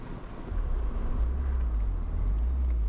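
A Mazda RX-7 convertible on the move, its engine droning low and steady beneath rushing wind, swelling slightly after the first half second and holding a constant rumble.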